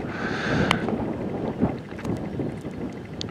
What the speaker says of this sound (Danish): Det blæser stadigvæk. Det stormer stadigvæk.